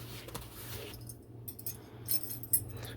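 Small metal Allen keys, sockets and quarter-inch bits clink softly inside a compact toolkit case, a few faint scattered jingles and light taps close by in a quiet room.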